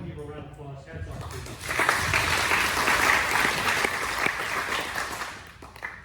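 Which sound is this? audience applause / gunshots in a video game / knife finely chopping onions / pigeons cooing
audience applause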